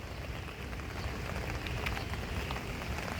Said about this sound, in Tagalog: Pag-ulan na.